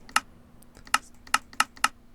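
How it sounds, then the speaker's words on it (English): Five crisp Minecraft menu button clicks from the game interface, evenly spaced sharp taps over near silence, with a faint steady hum underneath. "we're going to just click on some buttons to hear what the sound would normally sound like when we're actually right clicking on a button"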